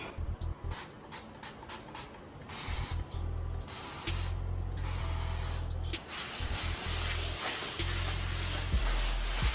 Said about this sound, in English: Let's spray these super stain areas first.